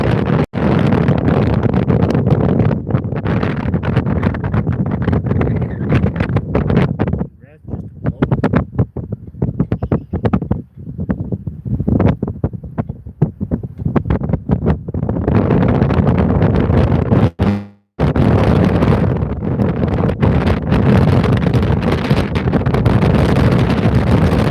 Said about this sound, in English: But listen to this wind.